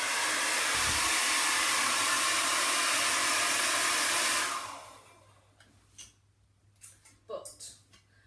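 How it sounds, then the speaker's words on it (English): A hair dryer standing in for a dragon's fiery breath blows a loud, steady rushing whoosh for about four seconds, then cuts off abruptly, leaving quiet with a few light clicks and knocks. "And now for the fiery breath, we've got the hairdryer."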